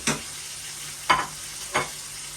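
Liver frying in a pan with garlic and pepper, unsalted. A soft, steady sizzle is broken by three brief, louder stirring scrapes spaced about a second apart.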